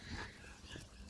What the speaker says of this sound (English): That's Holly barking.